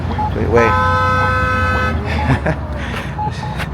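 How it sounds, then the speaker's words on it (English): On a city street, a car horn gives one sustained honk lasting over a second, loud and fairly close, amid traffic noise, followed by a few fainter short toots. "Look, as someone's honking."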